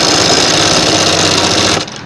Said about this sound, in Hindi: अब हमें यहाँ सिलाई लगा देना है इसके ऊपर